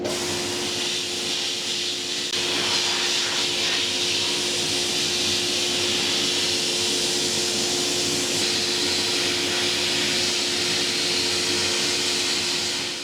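Abrasive media blasting a rusty rear-end pinion yoke from a 1995 Impala SS, a steady, loud broadband hiss with a constant tonal hum underneath, running continuously with no talk.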